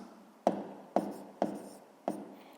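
Pen writing out a sixth-grade maths exercise on paper, close and quiet, with a run of short scratchy strokes each starting with a small tap, spaced about half a second apart.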